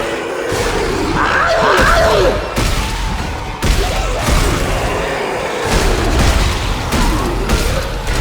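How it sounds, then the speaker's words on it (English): An exploder enemy in the Dead Space 3 video game lets out heavy booms, thuds and growling roars in repeated bursts, loud and close with layered game effects. "That is the sound of an exploder."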